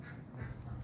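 A duck quacking outdoors in the morning, a short run of low, raspy quacks, faint and close together, with no talk during the call.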